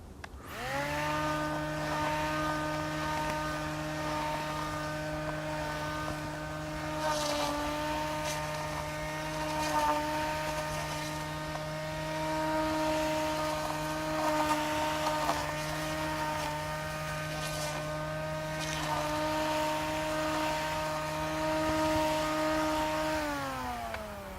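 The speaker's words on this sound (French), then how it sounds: "Ce coupe-bordure est quand même silencieux comparé à un coupe-bordure à essence." A steady electric motor whine from a Stihl FSA 45 string trimmer hums continuously and fairly loud, with stable tonal harmonics and slight fluctuations, running without pause throughout.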